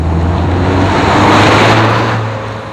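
A Mazda MX-5 driven hard around a skid pad, pushed to the edge of a drift, gives a loud, sustained engine drone close by that swells and then eases slightly.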